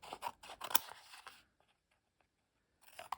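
Scissors trim the edges of a handmade craft piece, giving a quick cluster of close, crisp snips over about a second and a half, then near silence before a few more snips at the end.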